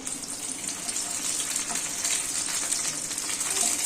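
Panch phoron spices, dried red chilli and bay leaf sizzle in hot oil, a steady hiss of frying for a Bengali aloo potol curry that carries on evenly throughout, with no talking.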